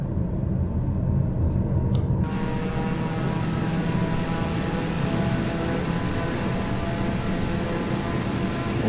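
Simulated airplane taking off in Microsoft Flight Simulator, a steady broadband engine roar that stays loud and constant throughout, with no voices.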